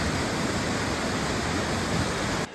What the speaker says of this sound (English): This is the Lealt waterfall